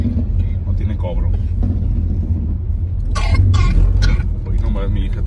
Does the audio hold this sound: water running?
no